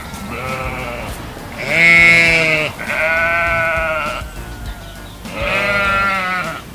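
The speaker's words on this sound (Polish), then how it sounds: "To owca! Tak, to owca! Owca beczy!" A sheep bleats three times, loud and close, each a wavering drawn-out cry separated by short pauses.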